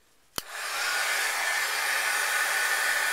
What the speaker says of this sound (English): Now I'm going to use my heat tool